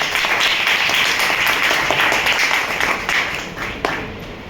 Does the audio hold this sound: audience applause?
yes